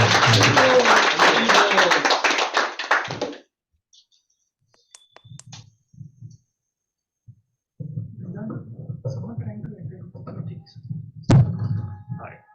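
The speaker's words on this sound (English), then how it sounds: "let's give a round of applause to our speaker" An audience at a Sunday Bhagavad Gita class applauds a speaker, a burst of clapping for about three seconds that stops abruptly, followed by scattered thumps, clicks and people talking.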